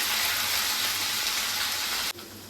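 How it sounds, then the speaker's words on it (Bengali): Grated coconut frying in hot oil with whole cumin and two bay leaves gives a steady, close, dense sizzle that runs unbroken, then drops suddenly near the end. "নারকেলটা আমি একটু সামান্য লাল লাল করে ভেজে নেব"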